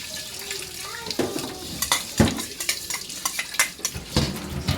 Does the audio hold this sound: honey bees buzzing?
no